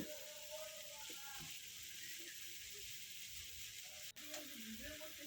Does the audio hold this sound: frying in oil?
yes